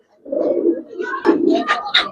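Giribaz and colored pigeons coo in low, rolling bursts at close range, joined by brighter chirps and a faint voice toward the end.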